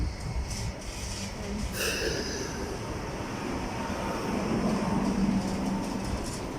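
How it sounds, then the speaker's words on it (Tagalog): Steady loud rumble and rolling rail noise of a train coming into a station platform, continuous and close throughout, with a faint tonal squeal rising toward the end. "615 train to Yun Long is parating na po yung train"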